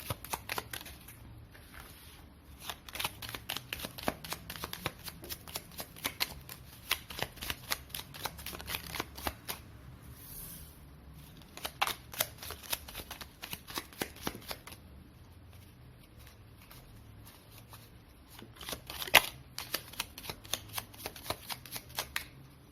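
Lenormand cards being shuffled by hand, long runs of rapid soft riffling and flicking in repeated bursts with short pauses, close and quiet.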